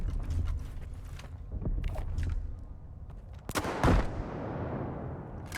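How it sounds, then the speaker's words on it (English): Two grenade launcher rounds go off in STALKER 2, producing two loud blasts close together, each followed by a long, rumbling decay, after quieter mechanical clicks and creaks. "So we shot 2 grenade launcher rounds"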